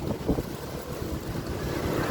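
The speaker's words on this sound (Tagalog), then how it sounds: "Lakas ng hangin." Strong wind roars and buffets steadily, with heavy rumbling gusts and a constant rushing noise, and no voices.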